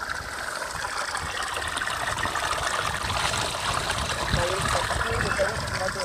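Spring water trickles and babbles steadily nearby, a continuous gentle flow with soft bubbling, outdoors in Karelia, and no clear talking over it.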